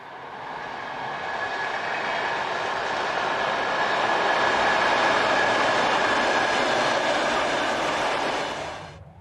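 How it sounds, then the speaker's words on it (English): An electric multiple unit train from Kaunas, Lithuania passes close by, its whine and rumble swelling steadily to a loud peak and then cutting off abruptly. "others are worked by electric multiple units such as this on a train from Kaunas"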